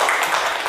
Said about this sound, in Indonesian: Bagus, tepuk tangan untuk Putri